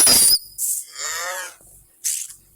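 A cow in a video game gives one drawn-out, wavering moo, set between short, harsh bursts of game noise before and after it, with no talking.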